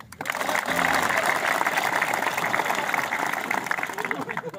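Steady applause from an audience at a military gathering, sustained and moderately loud, with voices mixed into the clapping.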